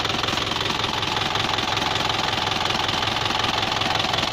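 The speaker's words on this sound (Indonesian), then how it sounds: "Sekarang kita tes mesin ini 4 atau 3 tahun tanpa ganti oli" An Isuzu diesel engine idles steadily with a loud, even knocking clatter, close up and continuous, no voices over it.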